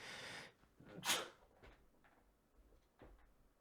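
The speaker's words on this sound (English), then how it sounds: "I just sneezed." A single sharp sneeze bursts out, loud and close, followed by a few faint rustles and small knocks in an otherwise quiet room.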